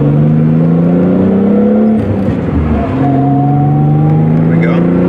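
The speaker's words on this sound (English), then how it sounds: "let's drop it down in first." A 1990s car dropped into first gear and accelerating, engine note holding steady then rising in pitch after a brief dip, loud and close throughout.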